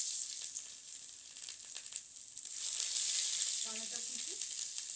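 Dried red chillies, whole cumin and whole garam masala sizzle in hot oil in a pan, a steady frying hiss that grows louder partway through, with faint kitchen clatter.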